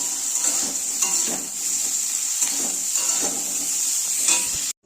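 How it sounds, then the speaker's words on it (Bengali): Dried red chilies, bay leaves, whole garam masala and cumin seeds sizzle steadily in hot oil, a loud continuous crackle with faint stirring clinks underneath, cutting off abruptly at the end. "শুকনো লঙ্কা, তেজপাতা, হচ্ছে গোটা গরম মশলা, সাদা জিরে ফোড়ন দিয়ে দিলাম।"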